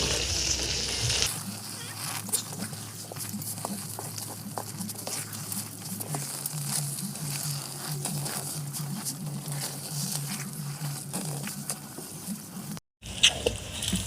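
Pumpkin and ghee mixture bubbling and sizzling in a pan as it is stirred, a continuous soft frying crackle with scattered pops and scraping, a low hum beneath, and a brief cut near the end.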